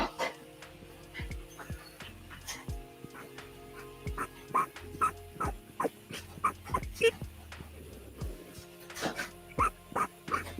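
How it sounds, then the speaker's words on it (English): A small dog barks and whimpers repeatedly indoors, sharp yips and whines scattered through the stretch, fairly faint, with a person talking at times. "The small dog won't calm down and is driving Mom and I insane."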